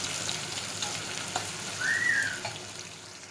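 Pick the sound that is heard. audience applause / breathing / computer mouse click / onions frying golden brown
onions frying golden brown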